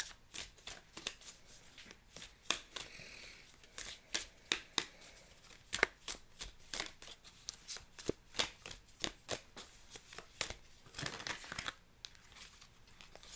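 Tarot cards being shuffled by hand in a quiet room: a long series of soft, crisp riffles and slaps in an irregular rhythm, close and fairly faint, with no talking.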